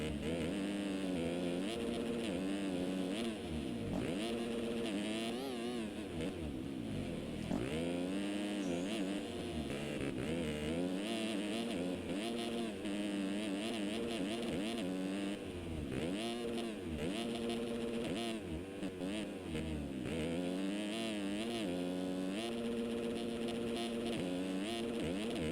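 Simulated 250 motocross bikes racing flat out in MX Simulator at a 2015 Unadilla race, a continuous layered whine of several engines holding high revs with rising and falling pitches, steady and dense throughout.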